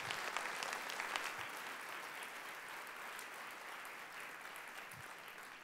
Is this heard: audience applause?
yes